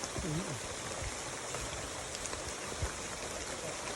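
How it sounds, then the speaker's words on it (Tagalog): A creek flows with a steady, broad rush of water that holds even throughout, with faint voices briefly audible near the start. "Maganda pala na sapa."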